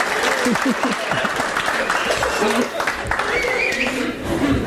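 Audience applause at a marriage conference, a continuous loud clapping crowd with voices and laughter mixed in throughout.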